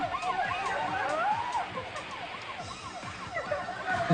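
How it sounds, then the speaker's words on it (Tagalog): An ambulance siren wails continuously, its rising and falling tone sweeping over dense street and crowd noise, fairly loud and close throughout. "Ano na, ambulansya ba yan o karo?"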